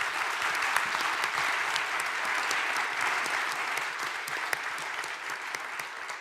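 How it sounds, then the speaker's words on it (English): Steady applause fills the room at a formal leaders' discussion on a just world, a dense, even patter of many hands clapping at moderate distance, holding unbroken for several seconds without talk. "that applause was for what you said"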